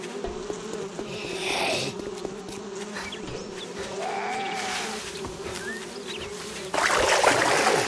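Swarming bees buzz continuously around the player under attack in the video game 7 Days To Die, a steady droning hum with shifting whines, growing louder near the end.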